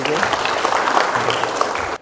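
Applause at a Christian prayer meeting after a healing testimony, a dense steady round of clapping from a crowd lasting about two seconds before cutting off abruptly.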